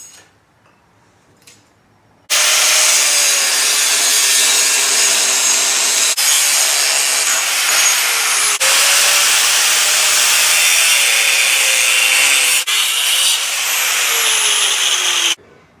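A saw cuts through the steel transmission crossmember of a Jeep TJ, a loud continuous rasping grind in long passes with brief breaks between strokes, starting after a quiet moment and running alone without talk.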